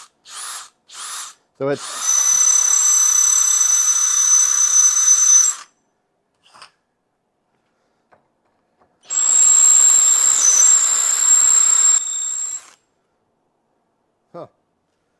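A Diablo Metal Demon drill bit bores into thick steel in two loud, sustained power-drill bursts of about three to four seconds each, with a sharp high whine and a pause between them. A brief voice speaks at the start.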